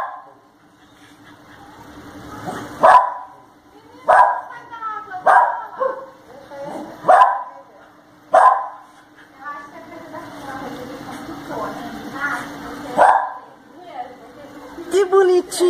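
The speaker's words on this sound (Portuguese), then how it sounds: "Meu cachorro tá latindo porque tá com ciúmes do gatinho." A jealous pet dog barking indoors near a kitten, with about eight sharp, loud, close barks spaced a second or two apart and a low steady hum behind them.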